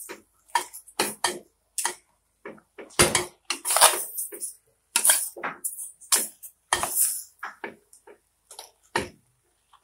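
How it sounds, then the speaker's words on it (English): A spoon stirs thyme, a seasoning cube and curry powder into a pot of Nigerian gizdodo, giving a run of irregular close scrapes and metallic clinks with short gaps between them. "So that I'm going to stir everything together"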